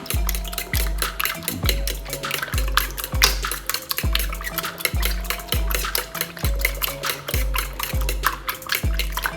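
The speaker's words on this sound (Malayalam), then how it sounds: "ഇനി ഇതെല്ലാം കൂടെ നല്ലതുപോലെ ഒന്ന് മിക്സ് ചെയ്ത് വെക്കാം" Egg being whisked with crushed chilli in a bowl, a utensil clinking against the sides in a steady, regular beat, close and fairly quiet with no voices.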